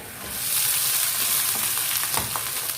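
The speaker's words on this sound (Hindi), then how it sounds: "ये बॉयल किया हुआ और छोटे पीसेस में किया हुआ चिकन। इसको हम हल्का सा फ्राई कर लेंगे।" Boiled chicken cut into small pieces fries in a little oil, giving a loud, constant sizzle close up with faint stirring scrapes and no voices.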